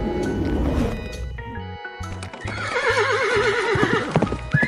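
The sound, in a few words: horse neighing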